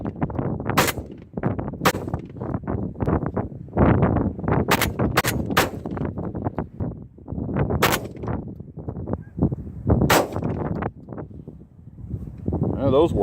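A Hatfield USA12C SAS camo 12-gauge shotgun firing shells at an outdoor range, several sharp loud shots spaced irregularly over steady wind noise and someone talking.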